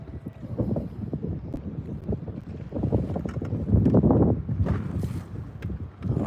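Gusty wind sweeps across a lake during Hurricane Milton while bass fishing from a boat, buffeting the microphone in deep, uneven rumbles that swell strongest midway before easing.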